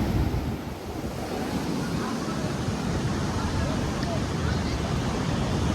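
Sea waves at Revupolavaram beach near Visakhapatnam, a steady, loud roar of surf with heavy wind buffeting the microphone throughout.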